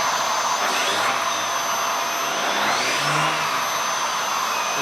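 A Vax Air Lift Steerable Pet upright vacuum cleaner runs with its rotating brush spinning. It gives a loud, steady, harsh motor whine with a faint shifting tone, close up and with no voices.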